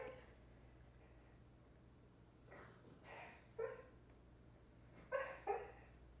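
A sleeping puppy lets out soft, muffled little barks and whimpers while dreaming, a few faint yips spaced apart over a steady low indoor hum.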